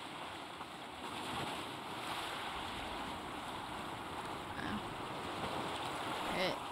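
Steady howling wind in the video game Banishers: Ghosts of New Eden, a continuous broad rushing roar that stays loud and even throughout.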